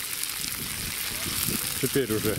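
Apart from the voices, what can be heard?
meat frying in cauldron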